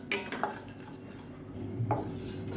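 Cumin seeds dry roasting in a pan with dried turkey berries, heard as quiet scraping and a few light metallic clinks of a utensil against the pan, with no voices.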